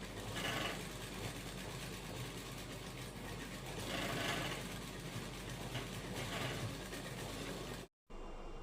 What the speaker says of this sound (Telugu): ఇక్కడ మిషన్ చూసారా లైట్గా సౌండ్ వస్తుందండి